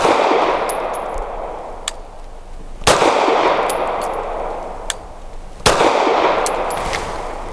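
Three loud, evenly spaced gunshots from a Canik METE MC9 micro compact 9mm pistol, each a sharp crack with ringing decay, plus faint metallic clinks between shots.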